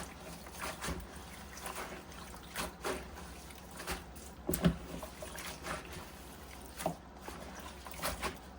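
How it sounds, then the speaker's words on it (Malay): Cassava shoots being washed by hand in salt water, with soft splashes and trickling pours coming at an uneven rhythm, close and moderately loud. "Kita cuci dia dengan air garam dulu guys."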